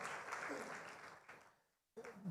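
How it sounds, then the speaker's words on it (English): Audience applause at a travel expo partners breakfast, quiet and distant, fading to near silence before a brief burst of voices returns. "Let's give a round of applause"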